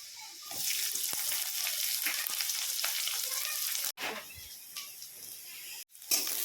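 Chopped onion and chilli fry with lightly fried crushed garlic in a pan, giving a steady, fairly loud hiss that runs throughout. Two very brief breaks interrupt it near the end, and no one speaks.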